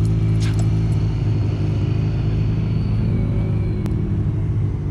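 Cars pass in road traffic with a steady loud engine rumble and a low idling drone throughout, no voices.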